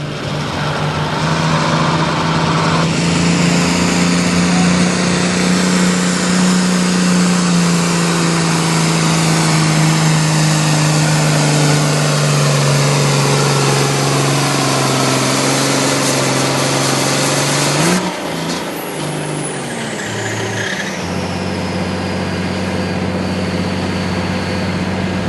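Pulling tractor at a Farmville truck and tractor pull, its engine roaring loud and close with a sustained high-RPM drone that climbs and strains for most of the run, then drops sharply as the throttle is cut.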